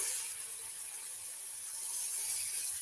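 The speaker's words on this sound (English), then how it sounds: "Hear that just start sizzling in there." Bacon sizzling in a frying pan alongside browning sausage while nachos are cooked: a steady, even hiss of frying fat, fairly faint and continuous, with no one talking.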